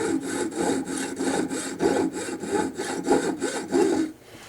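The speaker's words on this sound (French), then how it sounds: "je surveille la profondeur de la scie pour que la profondeur de la scie soit partout la même" A hand saw cuts a solid block of precious metal, a steady back-and-forth rasp of about ten even strokes, close and fairly loud, stopping just before the end.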